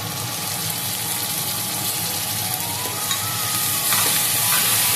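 Grated tomato hits reddened fried onions in a hot pan for paneer masala, a loud, dense, continuous sizzle with faint scraping, swelling slightly toward the end.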